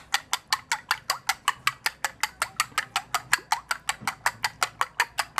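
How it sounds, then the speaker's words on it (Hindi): Egg and milk whisked together in a bowl, a rapid, steady run of crisp clinking strokes at about five per second, close up and with no talk. "काफ़ी ज़्यादा इसको फेंटना है कि ये यकजान हो जाए।"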